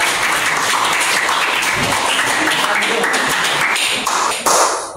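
Applause from a classroom of students, a dense steady patter of claps that fills the room loudly and briefly swells near the end, with some voices mixed in.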